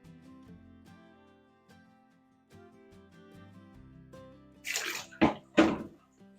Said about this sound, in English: here's some clean water, so I'll just pour that in